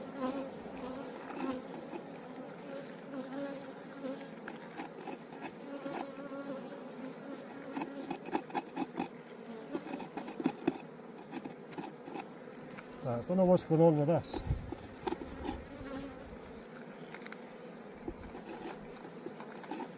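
Bees buzzing around an Abelo hive in a steady, droning hum close by, with scattered bumps and handling noises and a brief muttered remark partway through.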